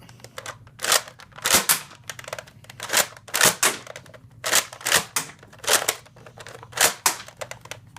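A Nerf blaster fitted with a Roughcut mod is primed and fired again and again, close up, giving a steady series of sharp plastic clacks and bursts about once a second.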